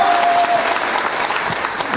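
Party members give sustained applause for party leader Cho Kuk at a Gyeongnam members' meeting, the clapping dense and steady for two seconds, with a faint voice briefly beneath it at the start.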